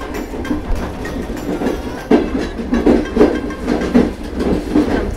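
A passenger train heard from inside a carriage rumbles continuously, with rhythmic clickety-clack wheel beats over the rails, close and fairly loud.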